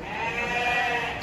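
A goat bleats at the Devnar livestock market, one long, wavering, fairly loud cry held for over a second, heard close with no talk.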